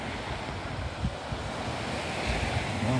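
Black Sea waves wash onto Uchkuevka beach in Sevastopol, Crimea, at a September sunset. The surf makes a steady rushing roar, with gusts of wind buffeting the microphone.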